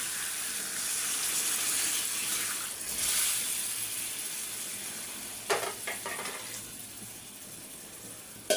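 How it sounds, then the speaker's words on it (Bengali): Lightly warm water pours and splashes into a hot pan of papaya and prawn curry, giving a steady hiss and sizzle, followed by a few brief clinks and stirring sounds. "হালকা গরম পানি দিয়ে দিলাম"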